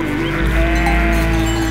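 Sheep bleating loudly and close in a rural mountain setting near a lake, a continuous overlapping chorus of several animals with no talking.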